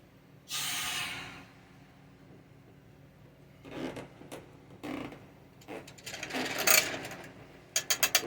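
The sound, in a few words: air hose blowing out outboard propeller shaft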